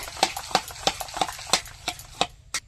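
Sour curd being whisked in a bowl for raita, heard as a steady series of about eight sharp rhythmic clinks and taps, fairly close and moderately loud.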